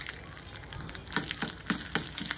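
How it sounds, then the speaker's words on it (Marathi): Hot oil crackles as cumin, Sangameshwari chillies and curry leaves hit the pan for a tempering, with a steady hiss broken by sharp popping bursts, up close and with no voices. "जिरं पण छान तडतडलं की गॅसची फ्लेम बंद करून ह्या 2 संगेश्वरी मिरच्या टाकते मी आणि कढीपत्ता टाकते"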